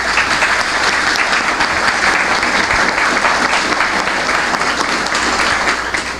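Loud, dense audience applause fills the room continuously and evenly, a close wash of many hands clapping at once throughout.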